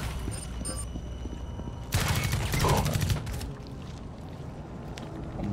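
A burst of automatic gunfire from the video game Rainbow Six Extraction rattles out for about a second, loud against quieter game ambience with scattered faint clicks and effects before and after.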